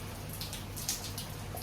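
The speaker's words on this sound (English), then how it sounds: "I want to show you guys how it's coming down hard, raining." Rain falls outdoors near a pool as a faint, steady patter of scattered drops tapping on surfaces, with a low hum underneath and no talking.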